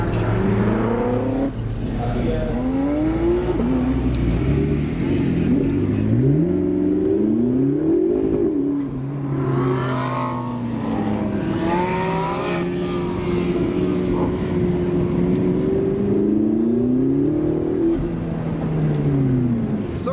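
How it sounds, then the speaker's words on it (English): A Ford GT40's lumpy V8 engine revs and drives past repeatedly, pitch climbing and falling through gear changes, loud and sustained for the whole stretch. "the winner of the rev off was the GT40 due to its lumpy sounding V8"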